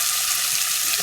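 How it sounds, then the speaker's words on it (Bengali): Cumin, ginger and garlic paste with chili powder frying in oil for a duck curry, giving a steady, close, loud sizzle that never breaks. "মানে একটু হালকা ভাজবো যাতে এক্সট্রা গন্ধটা বেশি তেল লাগে"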